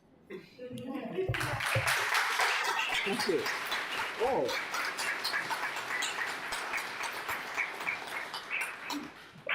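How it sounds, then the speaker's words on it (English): An audience at a summer poetry gathering breaks into sustained applause, a steady wash of clapping that continues for several seconds while a voice speaks briefly over it. "Applause. How nice."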